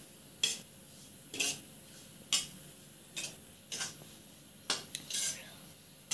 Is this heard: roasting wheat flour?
yes